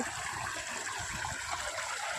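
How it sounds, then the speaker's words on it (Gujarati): Irrigation water running into a farm plot from a check-dam supply, a continuous close rushing, gurgling flow with no voices. "આજ તો જો વાડીમાં પાણી શરૂ છે"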